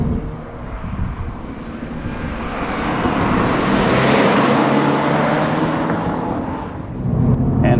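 A 2022 Subaru BRZ engine droning as the car pulls uphill through tight turns in third gear, a broad rumbling roar swelling toward the middle then easing, heard from inside the car without talk.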